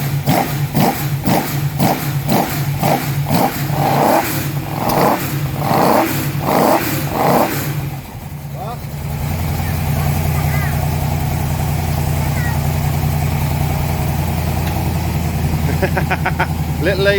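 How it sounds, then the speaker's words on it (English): A TVR Griffith racecar V8 engine turning over on the starter in a rapid rhythmic churn, then catching and settling into a loud, steady idle, close by, with people talking over it. "Little Leah's not quite used to a nice loud V8 yet."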